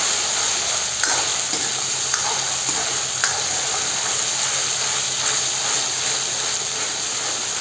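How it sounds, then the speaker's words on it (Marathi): Onions fry in hot oil for a village-style mutton curry, a constant close sizzle broken by occasional sharp scrapes and clicks of a spoon stirring against the pan. "ते कांद्याचा वास चालला जातो आणि भाजून जातो मस्त तेलामध्ये"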